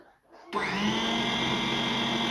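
A blender switches on after a brief quiet moment and purées cooked pumpkin and potato for homemade baby food, a loud, steady motor whine that holds constant to the end.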